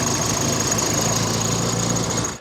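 A Volkswagen Jetta Mk1 coupe's 2.0 16V engine runs loudly and steadily close by, a low rumbling drone with no pauses.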